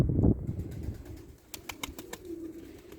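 Baby pigeons, an Arab squab and two with feathered feet, coo softly up close and shuffle about, with a brief flutter of wings and a few sharp taps.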